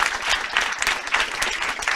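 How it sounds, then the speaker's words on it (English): Audience applause at a coding bootcamp demo day: a dense, lively burst of many hands clapping at once, steady and fairly loud throughout, with no voices standing out. "Round of applause"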